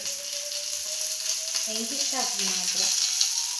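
Bangude (mackerel) fish fries in a pan with a continuous sizzling hiss. Faint background voices or tones rise briefly partway through.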